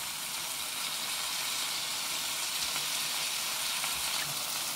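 Okra (bhindi) sizzles steadily in a frying pan as tomatoes go in, a dense, even hiss of hot cooking that carries on without a break.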